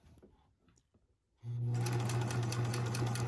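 A sewing machine stitches a seam on a fabric microwave baked potato bag, starting abruptly after quiet handling sounds and then whirring loudly and steadily up close.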